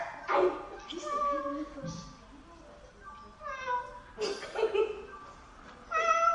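Several children take turns making high, drawn-out meowing cries, imitating a cat, with short pauses and chatter between the calls.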